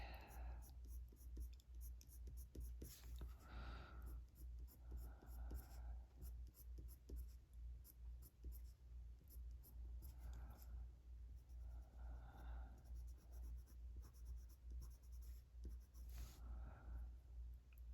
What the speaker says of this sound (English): I want to draw this in